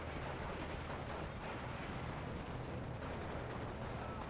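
Dense, continuous artillery fire and battlefield rumble from the WWII strategy game Steel Division 2, a steady loud wash of booms and crackle throughout with no clear individual shots standing out.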